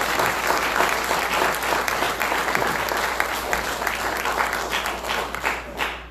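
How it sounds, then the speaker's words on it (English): Sustained applause from an audience at a live community event in Lauderhill, dense steady clapping that carries on throughout before thinning slightly at the end. "So I want to give a big round of applause to Commissioner Grant."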